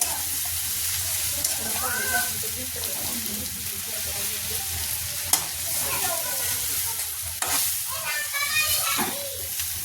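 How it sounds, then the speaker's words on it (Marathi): Okra with spice masala being stir-fried in a pan, a steady sizzle with scraping stir strokes running throughout and faint speech-like sounds in the background. "आणि छान हलवून घ्यायचं. सर्व मसाला भेंडीला लागला पाहिजे."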